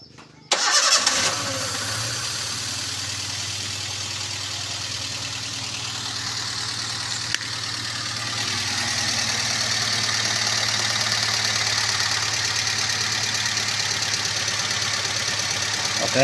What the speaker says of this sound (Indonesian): Kita hidupkan dulu mesinnya.